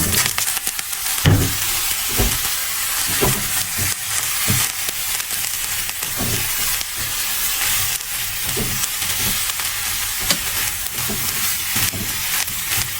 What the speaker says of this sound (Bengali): এখন আমি সয়াবিনটা ভেজে নিবো